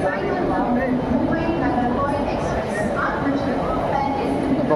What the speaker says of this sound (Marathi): आता इथं ट्रेन लागतात आहे